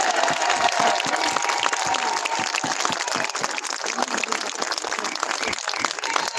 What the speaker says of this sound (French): Un immense applaudissement pour Claude